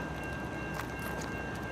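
A Norfolk Southern freight train led by GE locomotive 4055 approaching around a bend at night, a faint steady rumble of rolling wheels with a thin sustained tone above it, distant and unbroken.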